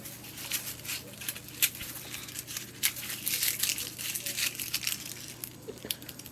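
Dry onions and shallots being trimmed for storage, giving soft crinkling snips and rustles of papery skins and stems, close and fairly quiet, in irregular bursts over a low steady hum.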